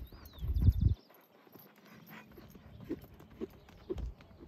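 A criollo horse's hooves on the ground, a couple of heavy thuds early on, then a few scattered, lighter steps at moderate distance.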